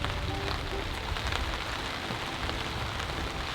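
Rain falls steadily on a tent, a dense, continuous patter that stays close and even throughout, with no voices.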